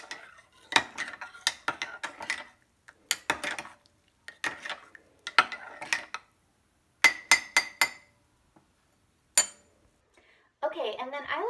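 A spoon clinks briskly against a glass while stirring a coffee substitute drink, sounding as quick bursts of close, bright taps with short pauses, then a voice speaks at the end.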